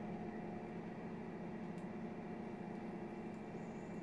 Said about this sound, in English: Now the cauliflower nuggets are covered in batter, I'm going to pop them in the oil.